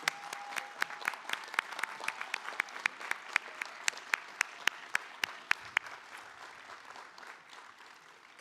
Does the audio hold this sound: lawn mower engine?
no